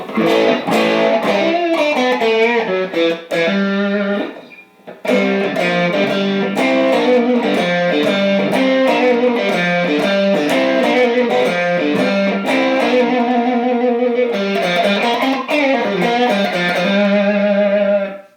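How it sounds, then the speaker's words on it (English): A Yamaha Pacifica 311H electric guitar plays a strummed and picked chord pattern through distortion and effects, loud and bright, with a short pause near five seconds; any single-coil hum stays buried under the playing. "obviously with a single coil, we're going to get a little bit of that humming sound."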